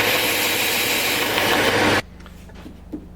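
A folding knife blade made from scrap has its edge sharpened on a 320-grit belt grinder, giving a loud, steady abrasive hiss that cuts off abruptly after two seconds, leaving a quieter motor hum.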